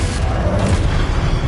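A Confringo explosive spell goes off in Hogwarts Legacy on PS5, a dense, continuous booming blast with rumbling low-end energy that holds steady and loud across the short stretch.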